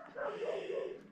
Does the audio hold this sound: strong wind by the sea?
no